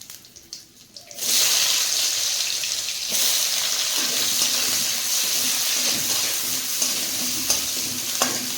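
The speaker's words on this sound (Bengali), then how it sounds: "পেঁয়াজটা ভাজা হচ্ছে" Onions hit hot oil in a pan and sizzle loudly, a dense, steady frying hiss that starts abruptly and continues, with occasional stirring scrapes.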